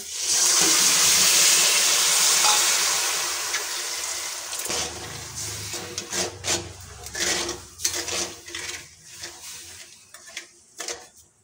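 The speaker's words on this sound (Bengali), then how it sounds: "দিয়ে দিচ্ছি হাফ বাটি জল।" Half a bowl of water pours onto sugar and jaggery in a pan, a rushing splash lasting a few seconds, followed by scattered scraping and light clinks of utensils.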